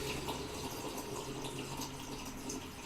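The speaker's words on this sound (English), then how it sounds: "You just bubble the water." Water bubbling and gurgling in someone's mouth or a glass as they pretend to drink, a steady close-up wash of noise with no talking.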